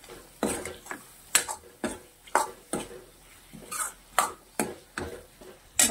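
Potatoes stir-fried in a pan over a cooked lentil filling, with a spoon scraping and knocking the pan in a steady, repeated rhythm. A faint sizzle sits underneath, and no voice is heard.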